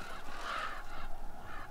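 Harsh, raspy crow caws in the game Call of Duty Black Ops 3, a couple of hoarse calls repeated at a moderate distance over a steady game ambience.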